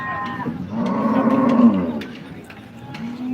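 Cattle at a cow market in Modnimb low and moo loudly and close by, one long bellowing call swelling in the middle with ambient crowd noise and faint voices around.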